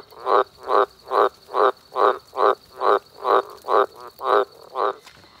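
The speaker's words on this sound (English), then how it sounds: "They croak so they can find each other, and it works." Frogs croak near a water-filled dam in a steady, evenly spaced series of about eleven loud calls, each a short raspy pulse, with nothing else heard.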